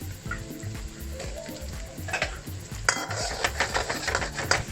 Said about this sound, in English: Going to add the onions to prevent the garlic from getting burnt.